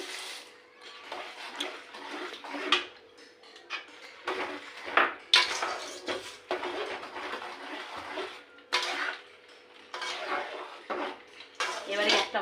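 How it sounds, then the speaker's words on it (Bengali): Nuts are stirred and tipped from a pan onto a plate, making repeated light rattling, scraping and clinking of metal and crockery in irregular bursts throughout. "বাদামগুলোকে দিয়ে ভালো করে নাড়াচাড়া দিয়ে নিয়ে তারপরে পাত্রে ঢেলে দিতে হবে"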